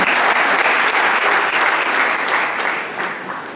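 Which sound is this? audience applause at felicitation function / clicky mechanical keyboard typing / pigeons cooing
audience applause at felicitation function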